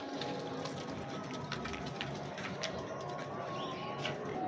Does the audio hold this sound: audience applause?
no